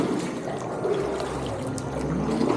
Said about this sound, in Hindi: ऊपर से कुतरा कुतरा पानी भी गिर रहा है।